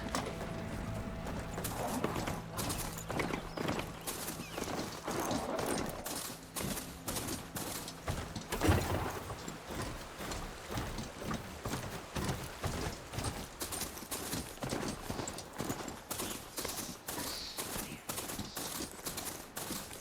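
Steady rapid clip-clop of a mount's hooves in Horizon Forbidden West, continuous and loud across the whole stretch, with mechanical game ambience underneath.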